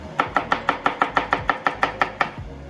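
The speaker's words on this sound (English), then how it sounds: "Nice and chop here. We got our shallots." Sharp knife chopping shallots on a board for beef Wellington: about a dozen quick, evenly spaced crisp taps, close and clear, with no talking.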